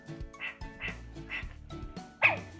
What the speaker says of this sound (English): this is how loud Lux is before the update on level one